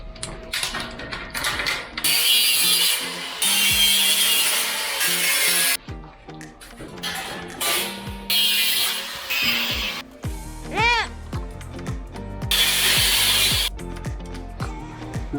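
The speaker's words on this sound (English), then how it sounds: "I've notched out and cut these two pieces of expanded metal" Expanded metal sheet being cut and notched with a power tool, loud harsh grinding and whining bursts broken by short pauses and mechanical clatter, close and alone.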